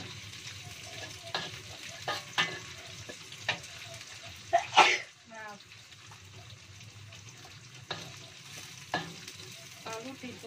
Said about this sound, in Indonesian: Nah, dituangkan dulu petenya ya, pete. Dioseng-oseng sebentar aja.